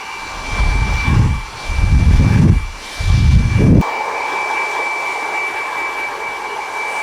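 A hair dryer blows loud, steady air over the top of a medium-length 90s-style haircut while a brush spreads the heat, the roar swelling and dipping in waves as it moves, then settling to an even hum.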